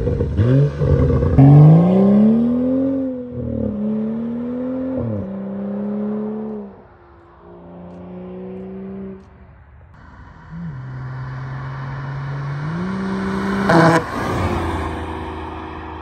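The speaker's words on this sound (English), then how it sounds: "go ahead, rev it." A straight-piped BMW M4 engine revs up and down repeatedly, loud and close, rising and falling in pitch over a steady idle rumble, with a sharp final blip near the end.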